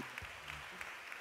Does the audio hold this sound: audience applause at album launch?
yes